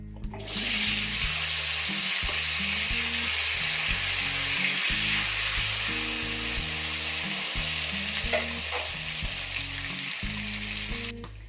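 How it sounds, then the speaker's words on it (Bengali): Potatoes fry in oil in a wok with a loud, continuous close sizzle that holds steady throughout, over low background music. "এবার এই তেলের মধ্যেই আমি আলুগুলো ভেজে নেব"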